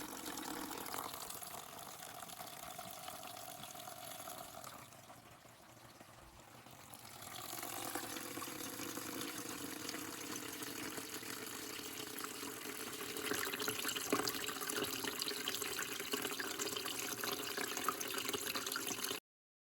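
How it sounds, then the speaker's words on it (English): Water from a Tetra EX 800 Plus aquarium filter, four years old, rushes and splashes steadily, close up, with a brief dip in the middle before it swells again. "strong flow of the water in the aquarium"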